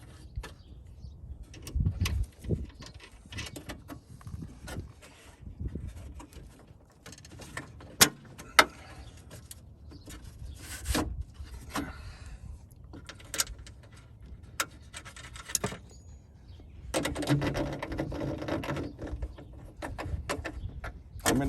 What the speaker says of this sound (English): I'm going to get them started with this nut driver